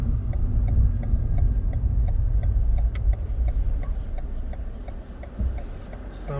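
Car turn signal indicator ticking at a steady even rhythm while a driver turns right at traffic lights, clicks clear and close over low engine and road hum.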